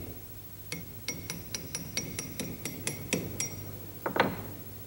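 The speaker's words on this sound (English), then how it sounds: "the pattern is gently tapped to ease it away from the sand mould, using the rod that was left in position earlier" A copper-axe casting pattern being gently tapped with a metal rod to loosen it from a sand mould, giving about a dozen sharp, evenly spaced ringing clinks, close and fairly quiet, ending in a couple of heavier knocks.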